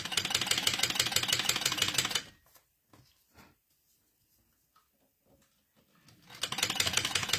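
A sewing machine runs in fast, rhythmic bursts while stitching strap tabs for a crossbody bag on a longer stitch length, loud at the start, then a near-silent pause with faint handling, then another run of stitching.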